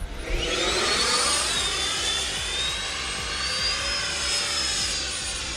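A radio-controlled jet plane whines overhead with a continuous high-pitched roar, its pitch rising and falling as it sweeps past, loud and sustained with no talk.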